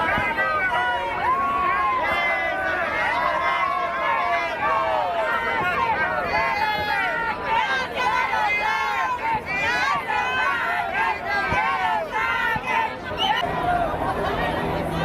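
A dense crowd of protesters fills the space with continuous chatter and overlapping voices, a steady close hubbub of many people talking and calling out at once.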